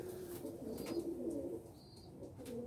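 A racing pigeon coos softly, its low, throaty calls rolling in a few repeated phrases. The sound is faint and fairly close, with an occasional brief chirp.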